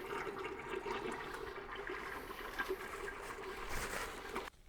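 Engine oil runs out of the open M13 drain bolt on a Mercedes GLC during a service, a steady faint liquid pour and trickle heard close up that stops abruptly at the end.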